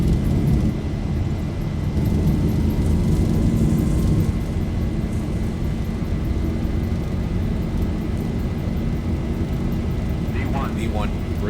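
Airliner engines roar steadily and loudly during takeoff in the flight simulator X-Plane 11, a constant heavy drone with no clear breaks.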